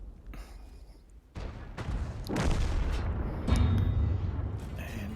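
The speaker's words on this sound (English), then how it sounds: "He's firing premium rounds here." A Super Conqueror tank fires its cannon in a tank video game, sending several deep, rolling booms in quick succession over a sustained, rumbling battle din.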